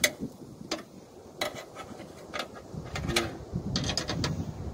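Bolts are tightened while a window is installed in a Hyundai Genesis Coupe 2.0T, giving a series of quiet, close ratcheting clicks and small metallic ticks in irregular bursts, with no talking.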